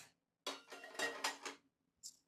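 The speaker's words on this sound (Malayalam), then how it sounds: "ചോറ് നിന്ന പാത്രമാണിത്," A small cooking pot that held rice is handled in a Kashmiri kitchen, giving several close, bright metallic clanks and scrapes in quick succession, then a short pause and one last light clink.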